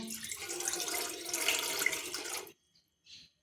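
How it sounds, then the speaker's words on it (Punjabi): Steady gush of a glass of water pouring into a metal pan on a gas stove for a couple of seconds, then stopping abruptly, followed by a faint clink. "ਇੱਕ ਗਲਾਸ ਪਾਣੀ ਦਾ ਪਾ ਲਿਆ ਇਹਦੇ ਵਿੱਚ"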